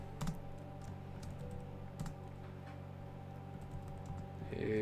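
Keys clatter on a computer keyboard in a steady run of light, irregular taps, close and moderately loud over a low constant hum, with no one talking.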